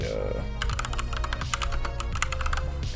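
Rapid keystrokes on a computer keyboard while a profile name is entered for a game save manager, a close, steady run of clicky taps over a low background hum.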